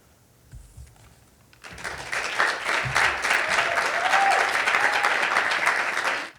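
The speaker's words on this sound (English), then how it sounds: "one more round of applause for all of our volunteers for reading" After a brief quiet start, an audience breaks into loud, sustained applause that continues evenly before cutting off abruptly.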